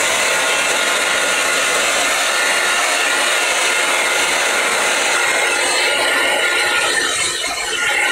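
A heat gun blows steadily on paint-stamped fabric to dry it, a loud continuous whooshing hum that holds constant and close for the whole stretch with no talk.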